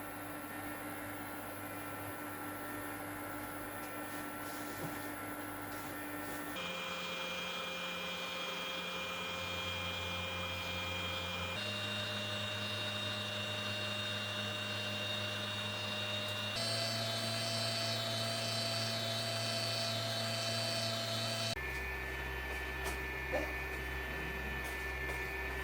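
Silvercrest SEM 90 C3 ice cream maker running its mixing cycle, a steady motor hum and whine that holds level throughout with faint background noise and no talk.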